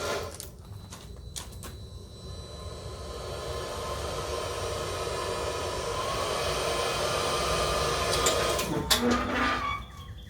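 A DeWalt battery-powered leaf blower runs steadily for about ten seconds at an outdoor overnight brisket cook, a broad airy whoosh that builds slightly louder toward the end, with a few clicks and knocks near the start and finish.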